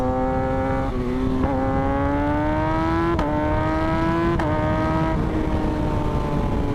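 2023 Kawasaki ZX6R being ridden on a street, its engine droning close with a rising pitch, broken by several quick gear shifts that drop and rebuild the tone.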